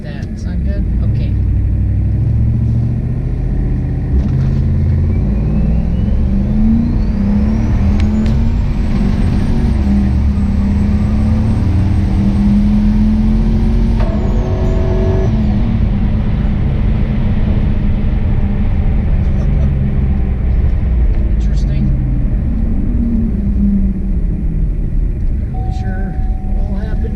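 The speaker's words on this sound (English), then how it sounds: "I'm going to do like from 0 through some gear changes." A car with a boost controller set around 30% accelerates hard from a standstill through several gear changes, its loud engine roar climbing and dropping at each shift and staying steady and close throughout, with speech heard alongside.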